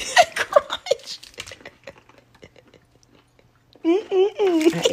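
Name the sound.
biting crunchy ginger snap bologna sandwich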